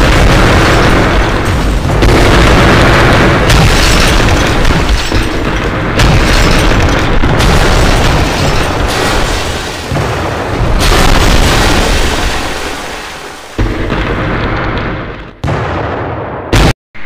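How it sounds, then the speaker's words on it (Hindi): Bomb blasts tear through a city destruction video game, a dense, continuous barrage of loud booming explosions with crackling debris, thinning out near the end into a few final bursts. "ये ब्लास्ट किया, अभी साउंड इफेक्ट सुनाता हूँ।"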